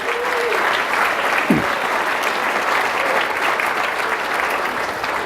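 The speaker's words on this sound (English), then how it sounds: "Give them a round of applause." An audience at a restaurant and lodging association gathering gives a round of applause, a thick, even wash of many hands clapping that holds steady and loud for several seconds, with a brief voice or whistle rising partway through.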